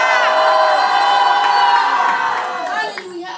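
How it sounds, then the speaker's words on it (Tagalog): A church congregation at a retreat gives a loud, unified shout of hallelujah, a bright, full-throated burst of many voices that holds for a couple of seconds and then tails off. "Bigyan nga natin pinakamalakas na sigaw ng hallelujah kay Lord"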